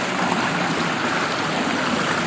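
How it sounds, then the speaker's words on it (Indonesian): A river flows through rural village countryside near rice fields, producing a steady, close rushing of water that stays even throughout with no voices. "Ada sungai, sahabat ya."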